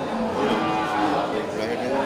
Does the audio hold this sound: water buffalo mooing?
yes